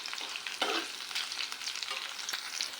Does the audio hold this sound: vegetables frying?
yes